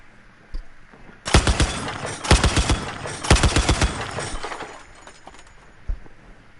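Mounted machine gun firing in Battlefield 4 on Operation Locker, in three loud rapid bursts with short gaps between them, each burst made of tightly spaced shots, followed by fading echo.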